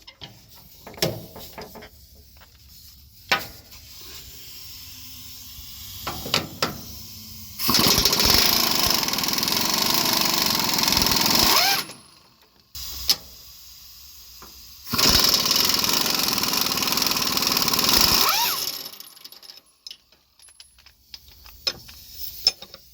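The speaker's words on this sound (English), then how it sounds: "So we're gonna start removing it. Start removing the bolts." Two long, loud bursts from an impact wrench or power tool loosening bolts on a Freightliner Cascadia cab mount, each a few seconds of steady rattling buzz, with softer clicks and tool handling between them.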